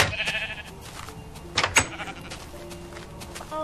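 Sheep in the video game Minecraft bleat in a few short bursts over a busy game soundscape, the loudest cries near the middle, fairly close and clear.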